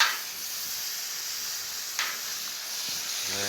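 Spring onion, chilli and ginger hit smoking hot oil in a wok-style pan, giving a steady bright hiss with a brief sharper burst midway and a faint clatter at the end.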